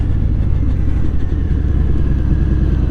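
A new custom motorcycle idles up close with a steady, loud low-pitched rumble and an even throbbing pulse, the engine running alone without any voices.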